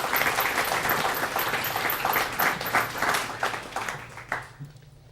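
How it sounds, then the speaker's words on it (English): Evening lecture audience at a Constitution Day event applauding a guest speaker, with dense, sustained clapping from a crowd that tapers off toward the end. "a round of applause for our guest this evening"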